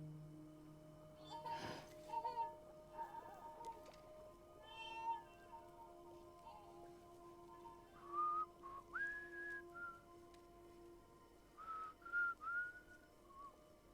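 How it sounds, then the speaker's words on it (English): In Death Stranding, a character whistles poorly in a run of short wavering tones alongside cat-like meowing sounds, fairly close and moderately loud with faint game ambience underneath. "He's not very good at whistling."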